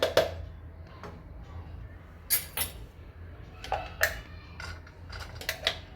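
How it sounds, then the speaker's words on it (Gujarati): A knife taps irregularly on a cutting board, chopping carrots in short, fairly quiet strokes, with no talking. "આ રીતના આપણે ચોપ કરી લેવાના છે ગાજર"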